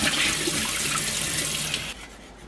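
Water rushes into a jar of sprouts being rinsed, a steady broadband pour for about two seconds that then drops off to a quieter trickle.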